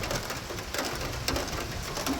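Rain falling on and dripping through the leaky roof of a house, a dense steady patter with scattered sharper drops, close and continuous.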